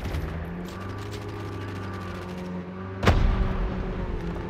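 A loud explosion in the mobile shooter Call of Duty Mobile bursts out suddenly midway, a single broadband boom over a steady rumble of engine and game noise.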